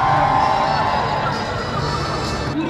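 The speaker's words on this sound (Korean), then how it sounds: "그녀의 기독교인들을 조롱하는 발언에 사람들의 환호가 터져 나옵니다" A crowd cheers and shouts at a rally in Seoul City Hall plaza at night, a dense wash of voices held loud and steady throughout.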